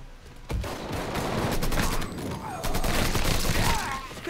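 Gunfire in the video game Mafia 3 comes as bursts of rapid overlapping shots, loud and continuous through most of the moment, with voices faintly mixed beneath.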